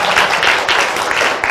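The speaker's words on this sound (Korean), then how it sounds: "박수 치겠습니다. 박수." Audience applause at a Korean talk show taping, a dense continuous patter of many hands clapping, steady and fairly loud throughout.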